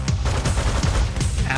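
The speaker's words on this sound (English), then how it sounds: "You can spam that machine gun too." Rapid machine-gun fire in the video game Megabyte Punch: loud, dense bursts repeating in quick succession that fill the whole moment with no pause.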